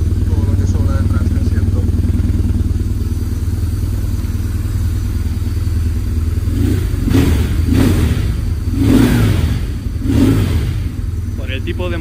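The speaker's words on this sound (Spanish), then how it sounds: "ya veis que cuando acelero la moto se mueve" A BMW R1100 GS boxer-twin motorcycle idles with a steady, lumpy throb, then is blipped several times in quick succession, each rev swelling and dropping back. The engine is close and loud, with a voice speaking in the background.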